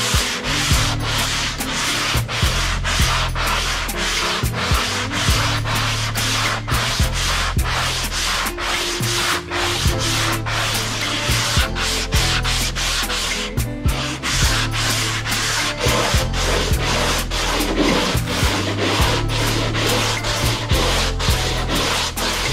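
Steady rhythmic scraping of sandpaper on wood during boat building, close and loud, with back-and-forth strokes continuing throughout.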